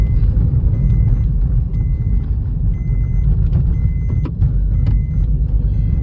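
A Mahindra Thar drives fast through narrow village lanes, its engine and tyre noise forming a loud, steady low rumble heard from inside the vehicle, with faint clicks and rattles over it.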